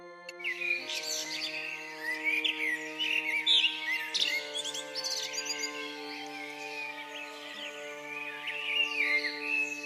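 Small birds chirp and tweet in a forest, bright rapid calls running throughout over a soft sustained musical drone.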